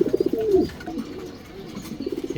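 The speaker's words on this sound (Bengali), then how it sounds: "এই যে দেখেন ডিম পায়রা বসছে।" Domestic pigeons, a breeding pair sitting on eggs in a loft, give soft rhythmic coos close by, a pulsing burst at the start, a pause, then another run of coos at the end.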